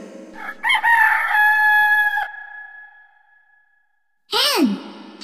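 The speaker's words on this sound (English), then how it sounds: "Rooster." A rooster lets out one long, loud crow that trails off, followed by a short burst of speech after a pause.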